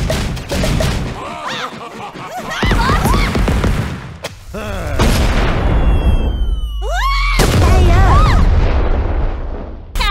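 Cannon fire from the video game Them's Fighting Herds booms repeatedly in heavy bursts, layered with game music, voices and shouts.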